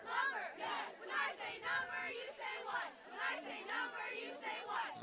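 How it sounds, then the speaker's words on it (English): A high school cheering section chants and shouts from the track in front of the bleachers at a boys' soccer game, a loud rhythmic crowd cheer rising and falling in repeated bursts. "Now you might hear the East cheering section down on the track right in front of the bleachers with a cheer."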